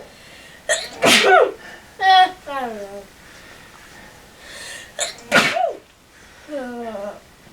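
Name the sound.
person sneezing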